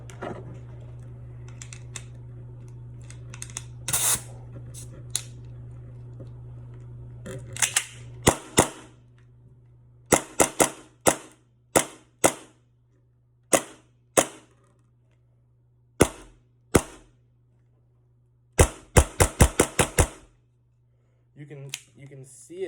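An EMG Combat Master airsoft pistol fires and cycles up close, a string of sharp, snappy cracks, some single and some in quick clusters, separated by short pauses over a faint steady hum.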